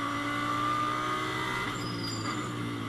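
A GT race car accelerates out of the second chicane at Monza during qualifying, its engine droning in a sustained tone at moderate distance, with a brief higher whine near the end.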